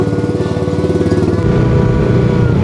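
A motorcycle engine runs steadily close by, a continuous pulsing drone that grows slightly louder and rougher partway through, with no voices over it.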